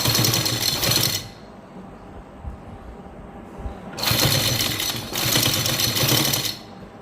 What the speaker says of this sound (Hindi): बिल्कुल किनारे किनारे के ऊपर आराम आराम से हम सिलाई लगाएंगे।